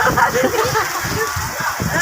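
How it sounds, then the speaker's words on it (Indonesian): Rain falling during a downpour in Banda Aceh, a steady, close patter and hiss of drops on surfaces, continuous and fairly loud throughout with no clear speech. "Suasana lagi hujan."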